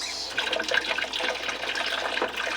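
Tap water runs in a steady, close, splashing rush as something is washed under it at the sink, with no voices.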